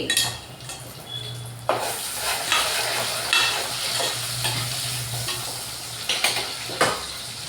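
Onions frying in a pan while cooking gongura chicken, giving a steady close sizzle with scraping stir strokes and a few sharper clatters of the utensil against the pan, with no talking.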